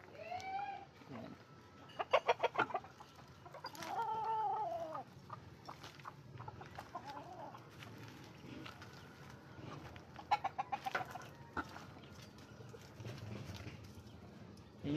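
Chickens cluck and squawk intermittently at moderate distance, with a few sharper bursts among quieter farmyard background noise.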